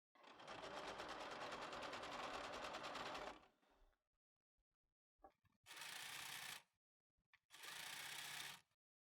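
A sewing machine runs a long steady stitch along a T-shirt edge, then stops and makes two shorter bursts after brief pauses, close and clear with no talking.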